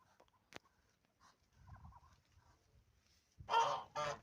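Farmyard chickens and geese call, with soft clucking early on and then loud honking bursts near the end, close by with no talking.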